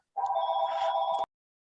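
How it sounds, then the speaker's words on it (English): A single electronic telephone ring, a steady warbling tone lasting about a second, close and clear, then silence. "I'm going to mute myself because my phone's ringing"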